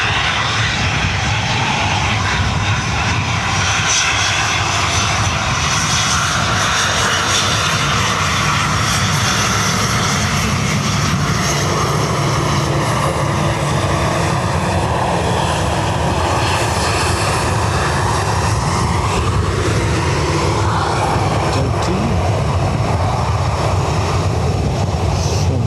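An Aer Lingus airliner at Dublin Airport, heard as a loud, sustained jet engine roar that swells and shifts slowly over nearly half a minute, with no talk over it.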